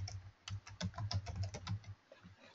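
Typing on a computer keyboard during software data entry, a quick irregular run of close, crisp key clicks that pauses briefly and then resumes, heard alone with no voices.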